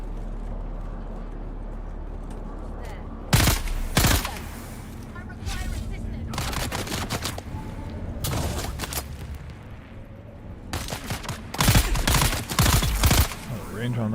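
Turret gunfire in Dune: Awakening comes in several sharp loud bursts of rapid shots with gaps between them, over a steady low hum, while a voice talks in between.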